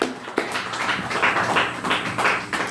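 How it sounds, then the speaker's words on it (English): An audience at a poetry reading claps for a poet, a brief spread-out round of applause from a modest crowd that is close and fairly even throughout. "Let's give Aisha a round of applause."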